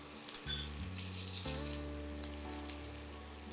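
Sliced onions fry lightly in a pan, giving a steady close sizzle over a low tonal hum, with no talking.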